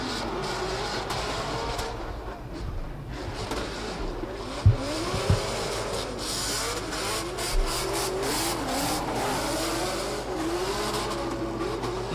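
Drift cars race at a drift championship, a Nissan S15 accelerating hard through the last corner, engines roaring and revving with tire squeal and a few sharp pops over a constant loud motor drone.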